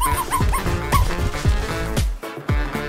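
A dog in a cat house video game gives a run of loud, close barks and yips with whimpering rises between them, in a quick uneven rhythm.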